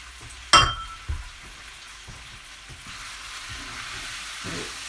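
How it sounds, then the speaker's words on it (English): Sausages and pork for a cassoulet are added to a hot pan and stirred. A sharp sizzle bursts near the start, followed by knocks and scrapes of stirring over a steady frying hiss that swells slightly toward the end. Nobody speaks. "I'm adding the sausages and the pork."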